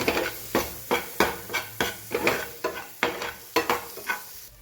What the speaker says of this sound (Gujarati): વટાણા સાથે મસાલો સરસ સોતે થઈ જાય